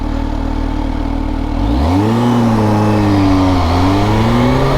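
A motorcycle with a quick shifter revs hard in a low gear, then its engine pitch drops abruptly on a shift and climbs again, with a second quicker shift later. The sound is loud, close and continuous, with no talking.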